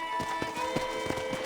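Horse hooves clip-clop in Red Dead Redemption, a quick run of evenly spaced, fairly soft thuds over a faint ambient bed, with no voices.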